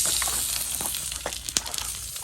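Steady sizzling of pork frying on a hot grill pan outdoors beside rice fields, with occasional sharper crackles and pops over a constant hiss.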